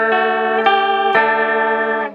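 Guitar run through a Behringer UC200 chorus pedal with the rate at maximum, giving a warbling, shimmering tone. Several sustained chords ring out loud and close, with fresh strums near the start and again around halfway, no voices.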